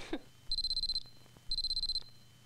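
An alarm clock beeps in two separate bursts, each a rapid string of sharp, high electronic pips lasting about half a second, with a short soft sound just before the first burst and no voices.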